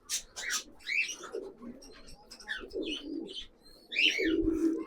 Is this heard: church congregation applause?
no